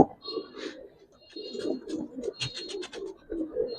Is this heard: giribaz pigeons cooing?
yes